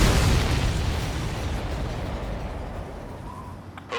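A loud explosion in the flight combat game Ace Combat 7: Skies Unknown, a deep rumbling boom that slowly fades over several seconds, ending in a faint whistle and a small pop.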